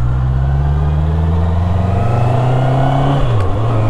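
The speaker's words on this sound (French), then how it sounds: "on a un bon mix entre le bruit du moteur et le bruit de l'échappement" A QJ Motor SRK 800RR on its stock exhaust drones steadily while riding, engine and exhaust note blended, pitch holding then dipping briefly as it eases off near the end; no voices.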